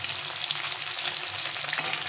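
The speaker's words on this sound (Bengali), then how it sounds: "একটু ডুবো তেলে মাছটা ভেজে নিতে হবে কড়া করে" Fish frying in deep oil, a steady close crackling sizzle with small popping spatters throughout, no voices.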